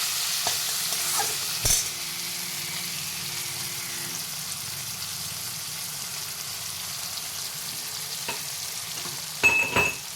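Onion fries in hot oil in a pan, a continuous soft sizzle with occasional stirring scrapes and clinks, no talking.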